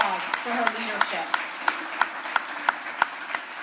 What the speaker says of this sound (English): can we please give our Commissioner a round of applause for her leadership